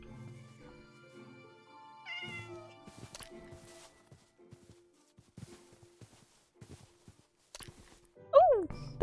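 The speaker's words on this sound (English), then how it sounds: "We got another cat!" A cat meows several times in Minecraft, short separate calls spread through the clip over a quiet background of game sounds and light footsteps.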